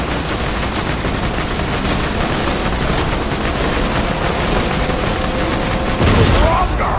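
Dense, continuous gunfire from Borderlands 2 fills the scene, loud and unbroken like sustained automatic fire, with a heavier burst near the end.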